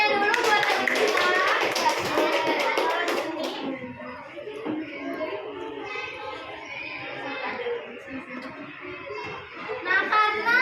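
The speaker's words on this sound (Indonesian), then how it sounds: "tepuk tangannya dulu buat teman kita" Schoolchildren in a classroom clap for a classmate who has just presented. The clapping is loud and rhythmic at first, then gives way to children chattering and a teacher's voice.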